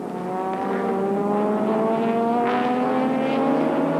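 Class C modified race cars from the 1993 Wesbank series roar past on the Killarney circuit, a loud, sustained engine drone with rising pitch as the pack goes by, no voices heard.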